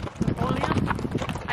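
Horse hooves clip-clopping in an uneven quick rhythm along a hiking trail in Peru's Sacred Valley, close by, while people talk over the footfalls.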